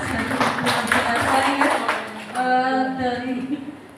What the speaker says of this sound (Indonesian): tepuk tangan buat Pak Fajar.